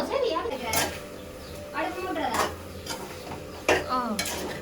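Curry stirred in a pan at home, a spoon scraping and clinking against the metal in irregular strokes, with people talking over it.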